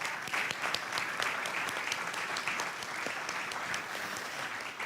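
Steady audience applause at a tribute event, a dense, even patter of many hands clapping throughout, fairly distant and moderately loud with no speech over it.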